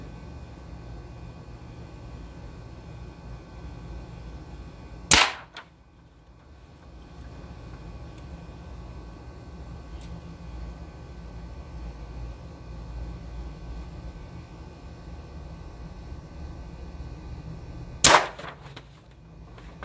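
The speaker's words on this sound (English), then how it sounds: "so let's take these 2 shots and see what we're doing on the silhouette target" Two sharp gunshots from a Cattleman gun at a silhouette target ring out about thirteen seconds apart, each a loud crack with a short tail, over quiet outdoor background hum.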